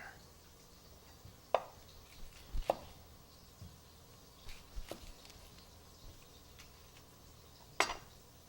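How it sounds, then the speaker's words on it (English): Sparse knife strikes on a cutting board as vegetables are roughly chopped into a rustic cut, a handful of sharp, irregular taps spread apart over a quiet kitchen background. "We're going to give this a nice rustic chop."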